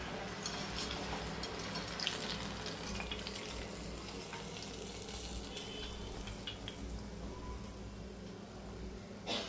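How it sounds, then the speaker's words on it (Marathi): Coconut karanji pastries fry in hot oil, giving a steady, busy sizzle and bubbling that runs without a break through the whole stretch, fairly close and with no voices. "आणि आता बाकीच्या तळून घेऊया।"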